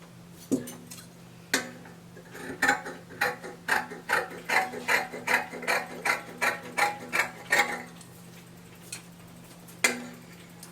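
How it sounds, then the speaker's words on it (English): Scissors cut out the back neckline of a dress in fabric with a run of rhythmic crisp snips, about one every half second, close and fairly quiet, with a few scattered clicks before and after. "I'll cut out the back neckline."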